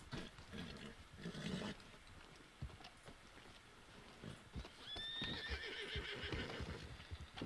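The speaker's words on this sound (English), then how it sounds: "Is that Sadie's horse?" A horse in Red Dead Redemption 2, a clear whinny midway over scattered hoof clip-clops and faint game ambience, fairly quiet overall with no talk.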